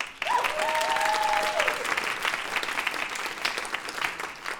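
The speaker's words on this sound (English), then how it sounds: "that's your cue to applaud one more time" Audience applause fills a student storytelling performance hall, dense clapping from a crowd sustained throughout, with a brief whistle or cheer early on.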